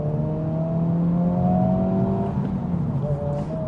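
A Honda Civic Type R FL5 pulls away under acceleration, heard from inside as a loud, rising engine drone with a steady road roar beneath.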